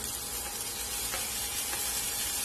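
A steady, loud sizzle of finely chopped garlic frying in hot oil, a constant crackling hiss with no pauses and no voices.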